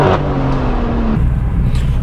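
BMW M4 with a full-tube exhaust revs loudly, its engine note rising and then dropping into a rough, rumbling idle, close and unaccompanied by talk.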